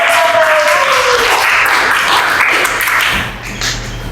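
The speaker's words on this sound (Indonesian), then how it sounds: "tepuk tangan untuk kelompok yang" Applause from a classroom audience for a presenting student group rises into a dense, even wash of clapping that holds steady and then fades near the end, loud and close.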